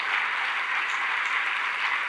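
A church congregation applauds together, a soft, even wash of many hands clapping heard at a distance, steady and fairly faint with no voices over it.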